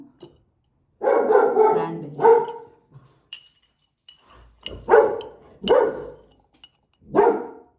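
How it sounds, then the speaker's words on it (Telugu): A pet dog barks loudly and close by in a home, giving a burst of barks and then several single barks spaced out between quiet gaps. "సో సారీ, మా డాగ్"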